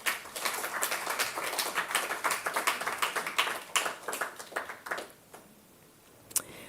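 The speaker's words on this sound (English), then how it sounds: "Round of applause for yourselves, please." Audience claps for themselves at a fellows program's tenth anniversary celebration, steady close clapping that fades after about five seconds, with one last stray clap near the end.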